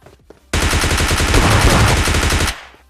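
Rapid automatic gunfire from PUBG Lite gameplay rattles out in one sustained, loud, close burst of about two seconds, shots blurring into a dense stream before cutting off abruptly, with no voices.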